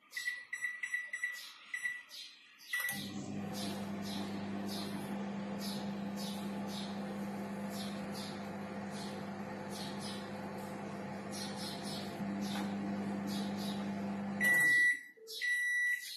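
Microwave oven roasting papad: a few beeps as it starts, then a steady loud hum running for about twelve seconds, ending in a cluster of beeps as it stops.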